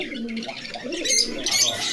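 Pigeons coo and chirp close by at a pigeon market and farm, soft throaty calls with brief higher tweets over a busy background.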